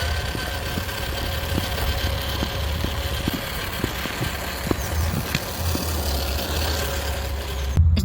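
A ROCHobby Atlas 4x4 1/10-scale RC crawler truck running on a 2S battery, its small electric motor giving a steady whirring drone with regular faint ticking from the drivetrain, close and continuous with no talk.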